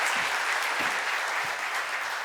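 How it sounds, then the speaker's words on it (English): Live show audience applauding at a Chicago call-in finance event as a guest approaches the microphone, a steady broadband wash of many hands clapping throughout, dense and even with no talk over it. "Give Laura some applause as she comes to the mic"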